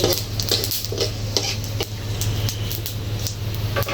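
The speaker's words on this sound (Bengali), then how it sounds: "শুকনো মরিচ আর হচ্ছে গোটা গোটা জিরা আর হচ্ছে দুটা তেজপাতা সুন্দর করে একসাথে ভেজে নেবে" Dried red chilies, whole cumin seeds and bay leaves frying together in a pan, with a steady sizzle broken by repeated scraping stir strokes of a utensil against the pan, close and fairly loud, without talk.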